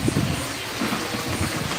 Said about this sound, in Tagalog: Masabaw yung biyahe natin, malakas ang ulan.